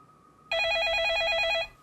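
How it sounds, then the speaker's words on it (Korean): A telephone rings loudly and steadily in a live TV stock-advice call-in show as a viewer's call connects, a single continuous burst of ringing lasting about a second, alone without talk. "다음은 전화 연결 이어가 보도록 할게요."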